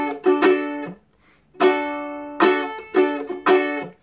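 Ukulele strumming in a muted pattern, with harmonic chord bursts and choked gaps between strokes, a syncopated rhythm of four strong hits played alone, close and clear.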